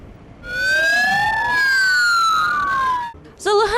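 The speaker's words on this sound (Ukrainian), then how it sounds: "Сирени та метушня побіля поштам" A loud electronic siren from rescue vehicles arriving at a post office in Cherkasy, Ukraine, wails and yelps with rising and falling tones, overlapping sweeps, then switches to a rapid warbling pattern near the end.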